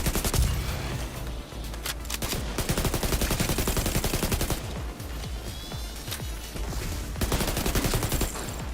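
Rapid submachine gun fire in The Division 2, dense automatic bursts rattling loudly and continuously with brief pauses between strings of shots, no talking.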